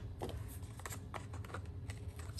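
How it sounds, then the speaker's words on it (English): Scissors trimming gilded-leaf paper along an edge in a crafting session, heard as a close series of quick crisp snips and rustles, about six or seven short bursts over a low steady background hum. "I'm going to use my scissors to trim that right along the edge."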